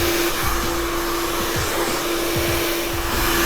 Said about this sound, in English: the direction of the blow dryer is always going down with the cuticle